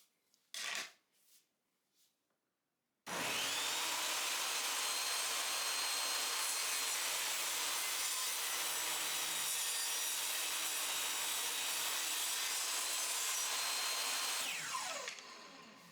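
A saw cuts a pallet wood board guided against a fence: a few short knocks, then a sudden loud, steady machine roar with cutting noise that runs for about eleven seconds before winding down.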